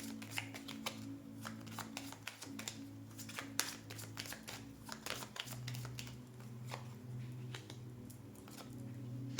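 Tarot cards shuffled by hand for a reading, a steady run of crisp riffling flicks and soft slaps, close and continuous over a low background hum, with no talk.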